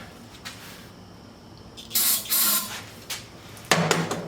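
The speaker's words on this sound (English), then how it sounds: "I'm going to start with a little bit of carburetor cleaner" Carburetor cleaner hisses from an aerosol can into a locked-up riding mower engine in short sprays, a couple of close bursts over faint background noise.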